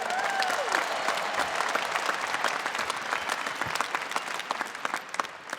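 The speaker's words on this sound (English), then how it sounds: "Give yourselves a big round of applause" A large stadium crowd applauds at a university graduation ceremony at Marvel Stadium, sustained dense clapping filling the space for several seconds with faint cheers mixed in.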